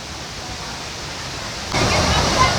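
Rushing river water at Castor River Shut-Ins near Fredericktown, Missouri, a steady broadband roar that swells noticeably louder partway through, with no voices over it.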